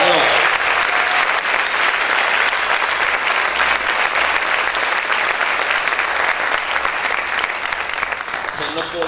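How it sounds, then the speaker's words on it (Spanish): A church congregation claps hard and steadily in sustained, dense applause that fills the space throughout, with no voices standing out above it. "Vamos a aplaudir fuerte al Señor"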